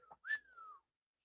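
A short human whistle: a quick note, then a longer sliding tone that drifts gently downward, faint and alone in an otherwise quiet room.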